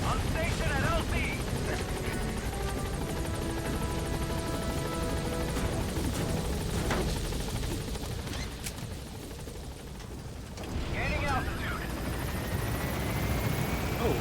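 A support helicopter in Metal Gear Solid V: The Phantom Pain thumps loudly as it arrives and hovers over a landing zone, its rotor drone filling the whole stretch while voices talk over it.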